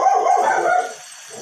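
Several dogs barking nearby at an outdoor seafood cookout, a dense burst of overlapping barks for about a second before it trails off into quieter background noise.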